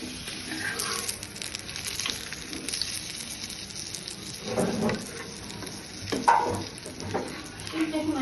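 Beef tikia kabab patties frying in a pan, browning in oil with a continuous soft sizzle and crackle, occasional louder spits and stirring sounds, faint background voice at times.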